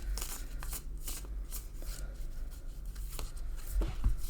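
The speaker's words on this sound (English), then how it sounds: "I shuffle until Spirit asks me to stop, or until some cards get flipped out" Tarot and oracle cards are shuffled by hand in a steady rhythm of crisp riffling and slapping, close up, with a couple of soft bumps near the end.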